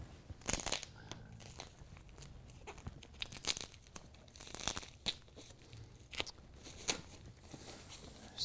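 Tape is peeled slowly off a screen unpacked from styrofoam packaging, giving quiet, close, ripping and crinkling bursts that come and go in irregular short pulls.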